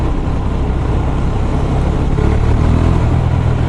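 A KTM 390 Super Duke motorcycle engine is heard up close as the throttle is twisted, giving a loud, continuous, rough engine roar that builds slightly toward the end, with no one speaking.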